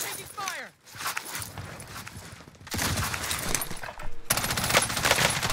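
Gunfire in a Call of Duty Warzone match, with bursts of rapid shots that build into sustained, loud firing while players talk over the action.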